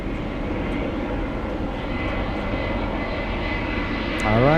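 A heavy jet airliner takes off from runway 24 left at Los Angeles International Airport, a loud, steady engine roar that holds throughout and swells slightly at the very end.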